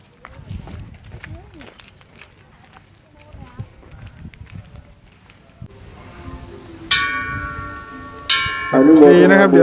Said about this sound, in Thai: ระหว่างทางก็จะมีระฆังนะครับตีเคาะนะครับใช้เหรียญนะครับ